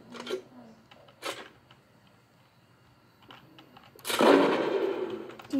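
Gunshots in Fortnite, a few sharp isolated shots spaced apart in a quiet scene, followed by a louder, longer noisy burst near the end.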